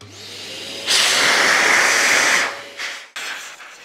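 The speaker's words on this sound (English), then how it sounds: "Now we're ready to start using the dryer" Bruhl MD1900 bike dryer blowing heated air through a hose and nozzle: a low motor hum rises into a loud, broad rushing hiss for about a second and a half, then drops off, followed by shorter bursts of blowing.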